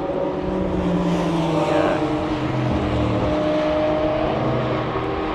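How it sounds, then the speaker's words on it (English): A flat-six engine on a car racing at Mallory Park during a supercar festival drones loudly and steadily past, its tone shifting slightly as it goes, with a brief word from a bystander. "Hear that flat six sing, man."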